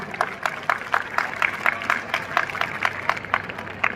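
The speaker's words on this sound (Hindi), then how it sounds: "तालियां पेरेंट्स के लिए।" School event audience clapping for parents, a steady, rhythmic round of applause with loud, regular claps close by, continuous throughout.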